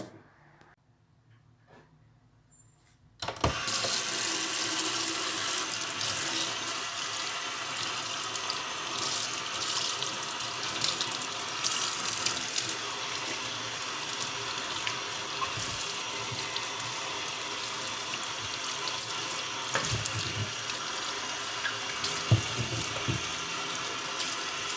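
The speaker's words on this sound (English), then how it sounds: "The first thing I'm going to do is to wash my plantain." A kitchen tap runs steadily while plantain is washed under it, beginning suddenly after a quiet start and then holding a continuous splashing hiss with small bumps and knocks from handling in the sink, with no talking.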